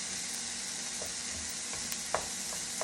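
Onions and mushrooms fry in a pan with a steady close hiss and crackle, while a utensil stirs with a few soft scraping clicks.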